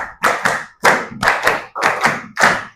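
Students in a classroom clap a rhythmic pattern in unison, played through twice: a steady run of loud, crisp group hand claps with short pauses between bursts.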